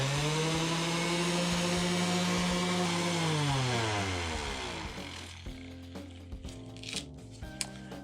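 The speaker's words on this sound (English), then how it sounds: "So what I have here is an orbital sander, and I have 80 grit sandpaper, and we'll see how that does on this cutting board." An orbital sander fitted with 80 grit sandpaper works across a plastic cutting board, giving a loud, steady whine whose pitch drops as it winds down, fading into quieter scraping and handling noises.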